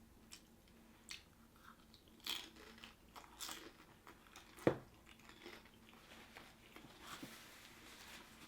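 Close, quiet chewing and biting of Hmong egg rolls, with soft irregular crunches and mouth sounds spread across the stretch and one sharper crunch near the middle.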